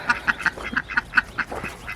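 Black Swedish duck quacking repeatedly in a steady run of about ten short, close, loud calls, with no other sounds.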